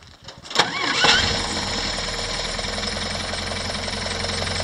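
A Willys Jeep engine cranks briefly, catches and fires, then settles into a steady, even idle close by, running alone with no talking.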